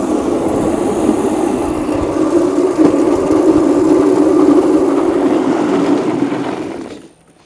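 A brushless electric drift kart whines steadily at around 30 mph through a park, a continuous close motor drone that holds even and then cuts out abruptly near the end, with no talk.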